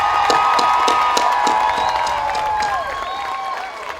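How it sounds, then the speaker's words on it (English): Crowd at the University of Guyana convocation applauding and cheering the graduating class of 2015, sustained clapping and shouts filling the hall, loud and steady before tapering slightly at the end. "put your hands together, cheer as loud as you can, and join with me in congratulating the graduating class of 2015"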